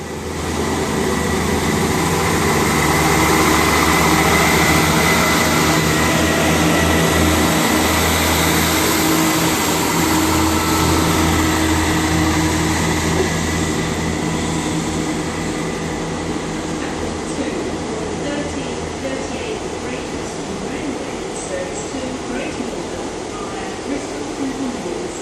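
A badly delayed train bound for Cardiff Central rolls through Westbury, a loud sustained roar and rumble that swells early and slowly fades as it passes.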